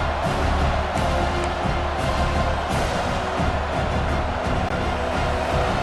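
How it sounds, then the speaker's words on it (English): Full-throated stadium crowd in EA Sports College Football 26 cheering after a defensive stop, a loud continuous roar that stays dense and steady throughout. "This crowd, full throat, splitting the eardrums and letting them know it's going to be a long day."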